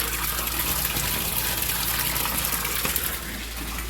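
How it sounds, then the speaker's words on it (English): Water gushing steadily out of the oil discharge of a separator, a continuous loud rushing flow with a constant low hum underneath, easing slightly near the end. "As you can see, water is coming out the oil discharge."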